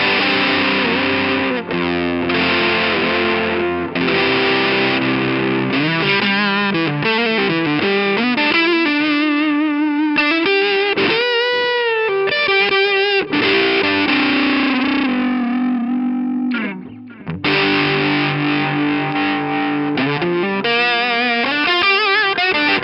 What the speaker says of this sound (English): so we're getting more into that full just distortion signal with no